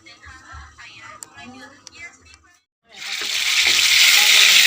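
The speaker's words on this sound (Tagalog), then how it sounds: "So magpiprito tayo ng bangus guys" Milkfish (bangus) hits hot oil and breaks into a loud, steady sizzle of frying after a stretch of quiet talking, the crackling hiss continuing close up to the end.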